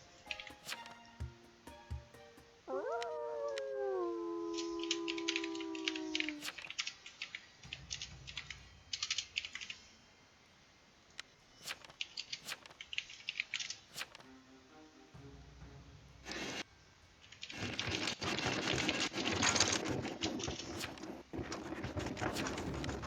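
Close keyboard typing in irregular bursts of clicky keystrokes, pausing at times, with a brief tonal chime early on and denser rapid tapping near the end.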